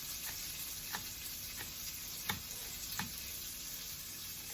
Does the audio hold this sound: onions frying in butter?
yes